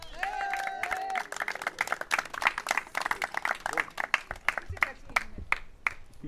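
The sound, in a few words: audience applause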